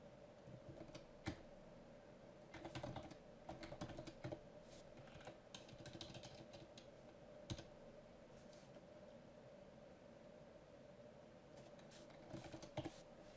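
Keys clatter on a computer keyboard as C# code is typed, coming in quick irregular bursts of clicks with short pauses, close and fairly quiet over a steady low hum and no talking.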